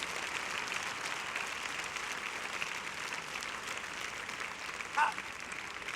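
Congregation clapping during a church service, a soft, even patter of many hands heard from a distance, with a brief louder accent near the end.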